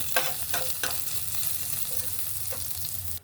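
Crushed ginger and garlic frying in hot oil with a quarter teaspoon of cumin seeds, a steady close sizzle broken by a few light stirring clicks and pops.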